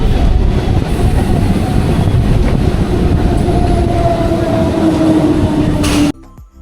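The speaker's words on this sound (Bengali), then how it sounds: "এখন আমি বেরিয়ে পড়লাম ক্যানিং লোকাল ধরে" A Canning local suburban train in Kolkata, heard from on board as a loud, steady rumble and rattling clatter of wheels with a rising metallic squeal before the noise drops away at the end.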